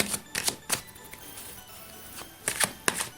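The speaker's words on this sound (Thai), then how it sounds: "นี่แม่หมอขออนุญาตสับไพ่เลย" Fortune-telling cards being shuffled by hand in a quiet home, making several crisp, close riffling bursts with short pauses between them.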